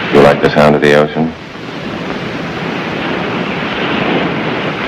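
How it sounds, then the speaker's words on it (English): Steady broadband roar of ocean surf, continuous and fairly loud, following a brief stretch of speech at the start. "You like the sound of the ocean?"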